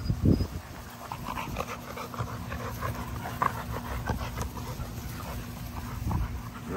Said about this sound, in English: Now the puppies attacking Katana.